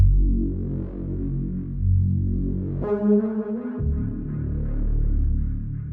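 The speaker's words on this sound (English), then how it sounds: "Really cool Reese type sound." A thick, detuned Reese-style synth bass made from a dial-up modem sample drones and throbs, with a brief brighter buzzing tone cutting in partway through before the low growl returns.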